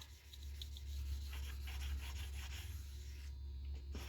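Knife blade being hand sanded after 2000 grit, steady close rubbing and scraping strokes with a soft rasping texture, repeated back and forth, no talking.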